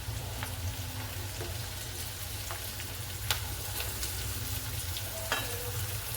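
Onion tipped into a hot pan with green chillies for semolina upma, giving a steady close sizzle with a few sharp clicks of utensil against the pan, no voices.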